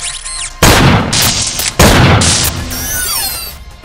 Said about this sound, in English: Now commencing round two of live fire training.